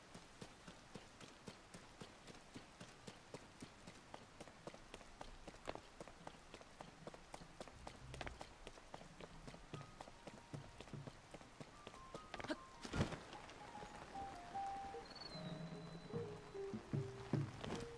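Steady rain patters on surfaces in Zelda: Tears of the Kingdom, a soft, continuous hiss with scattered drops, joined by occasional rhythmic footfall-like clops and a few brief game chimes near the end.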